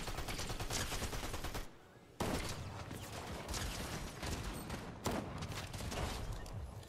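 Rapid bursts of automatic gunfire spraying in a shooter video game, loud and nearly continuous with a short pause and then renewed volleys, no talk.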